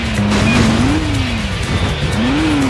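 A car in the Stuntman PS2 game skids through a handbrake turn, its tires squealing loudly in a rising and falling whine over the engine roar, close and without any talk.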